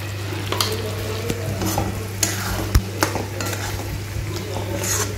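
Potato and pea curry with sugar and salt sautéing in a pan, a spoon stirring and scraping with soft sizzling and occasional sharp clanks against the metal, close up.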